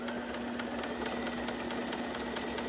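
A sewing machine runs at an even pace while back-stitching a quarter-inch seam on fabric, its steady motor whir and rapid needle chatter continuing without a break.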